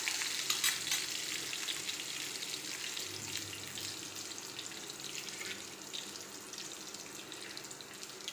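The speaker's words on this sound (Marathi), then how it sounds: "चांगलं भाजून घ्यायचं लसूण मिरची।" Garlic and chili frying in a pan, a continuous hissing sizzle heard close and steady, with faint stirring throughout and no talk.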